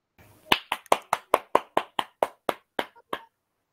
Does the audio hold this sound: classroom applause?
yes